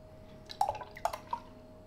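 Tiger Crystal beer is poured hastily into a glass, giving a few faint, brief splashing and dripping sounds over a quiet background, with no talk.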